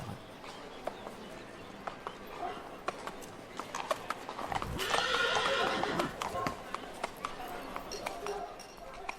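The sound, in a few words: horse hooves clip-clopping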